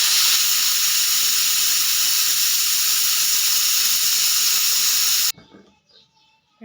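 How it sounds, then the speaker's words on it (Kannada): A pressure cooker holding vegetable kushka gives off a loud, continuous high steam whistle and hiss for about five seconds, then cuts off abruptly into near quiet with faint clatter. "ನಾನಿಲ್ಲಿ 2 ವಿಸಿಲ್ ಕೂಗಿಸ್ಕೊತಾ ಇದ್ದೀನಿ"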